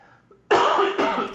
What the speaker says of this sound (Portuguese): Estou tossindo aqui, mas não é vírus, não.